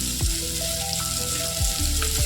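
Note saag greens with salt and a pinch of turmeric fry in a pan alongside bitter gourd and pumpkin, making a loud continuous sizzle that holds close and steady, with faint clinks and scraping strokes running under it.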